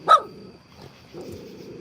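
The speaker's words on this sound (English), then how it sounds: "Oh, there is a dog over there." One sharp, close dog bark followed by faint distant barking or grumbling from a neighbour's dog, heard outdoors without talk.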